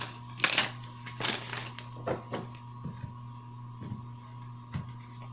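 A deck of tarot cards is shuffled close up, with several soft riffling bursts and taps spaced about a second apart, quiet over a steady electrical hum.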